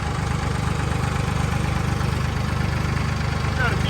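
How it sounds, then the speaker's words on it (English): A tractor engine idles steadily throughout, a low, even rumble with a regular pulse that stays close and constant, with a faint brief squeak near the end. "So let's get on the tractor here, go out in the yard"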